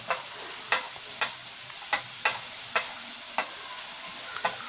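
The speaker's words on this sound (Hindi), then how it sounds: "काली मिर्च, सूखा धनिया भी। अब इन्हें भूनेंगे।" Black pepper and dry coriander dry-roasting with ground garam masala in a pan for chicken karahi, a steady faint sizzle broken by about eight sharp, regularly spaced scrapes of the stirring spoon, no voices.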